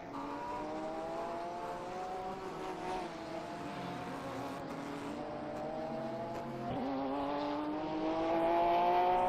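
Porsche GT race cars battling at the Shanghai circuit, their engines a faint, distant, continuous whine rising and falling as they pass, swelling slightly louder toward the end.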